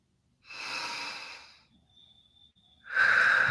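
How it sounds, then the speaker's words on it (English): One slow, deep breath drawn in and then let out, close and clear, with a short quiet pause between inhale and exhale. "just take a couple of deep breaths in. So breathe in, breathe out"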